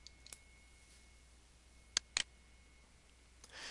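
A computer mouse gives two sharp, faint clicks close together in an otherwise quiet room with a low background hum.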